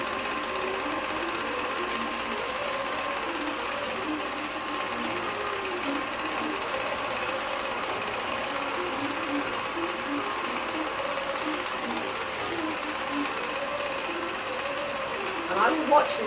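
A computer-guided longarm quilting machine stitching a pantograph pattern across a whole quilt, giving a steady, fast mechanical needle whir that runs without pause at moderate volume.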